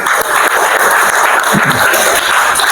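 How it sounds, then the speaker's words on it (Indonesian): Classroom applause during a school lesson, a steady broadband patter of many hands clapping together for nearly three seconds at moderate loudness. "Dan tepuk tangan untuk kita juga semua."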